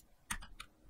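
Keyboard keys on a computer are pressed during video editing, three quick soft clicks in under a second, faint and close.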